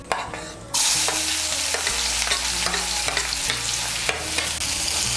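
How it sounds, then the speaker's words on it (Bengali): Chopped onion frying in a pan for a potol (pointed gourd) dhokar dalna, a steady loud sizzle with repeated scraping stir strokes, the hiss jumping louder after the first second and continuing alone without talk. "পেঁয়াজ কুচিটাকে লাল করে ভেজে নেব।"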